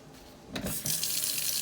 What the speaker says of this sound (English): Rinse the cloth off.